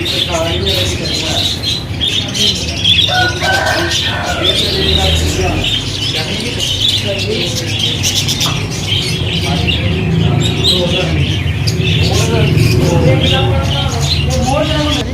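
A crowd of parrots squawking and chirping nonstop, a dense, busy chorus with people talking beneath it.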